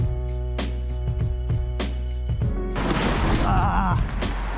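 A paramotor glides straight into a tree, and the crash comes as a loud burst of crunching, thrashing noise over steady background music with a regular beat.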